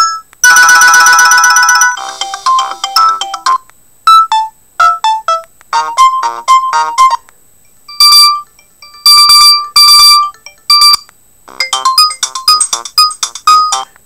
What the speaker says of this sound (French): plutôt des sonneries très stridentes, donc qui sonnent très fort